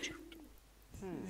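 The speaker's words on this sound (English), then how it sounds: "It's a pigeon." A Minecraft pigeon coos in a couple of short, soft calls, close by, with faint game ambience and a brief bit of muffled voice between them.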